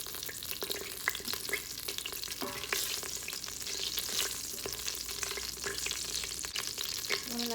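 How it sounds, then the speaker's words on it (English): Cardamom, cloves, cinnamon and cumin seeds sizzle and fry in hot oil in a pot, a constant crackling hiss dotted with small pops and occasional stirring scrapes, without talk. "You see that it's starting to sizzle."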